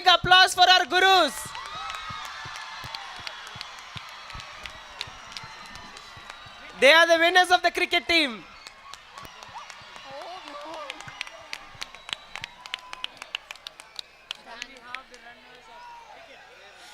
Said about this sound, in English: Guys, give a big applause for our gurus.